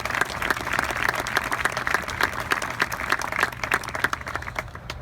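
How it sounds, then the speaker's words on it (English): Audience applause at an address to the Gerald R. Ford Museum, a steady, dense clapping crowd heard alone and fairly loud for the whole stretch, thinning slightly toward the end. "Let's give them all a round of applause,"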